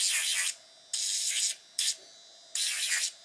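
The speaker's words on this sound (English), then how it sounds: "I'm gonna take this drill and drill the inside of them out" Four short bursts of a high, whirring buzz from a small nail drill texturing the inside of gel nail extensions, each about half a second, with quiet gaps between.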